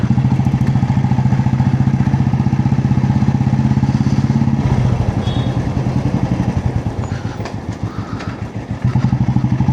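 A motorcycle engine runs loudly and close, its steady thrum shifting to a choppier, uneven rhythm midway, then steadying again.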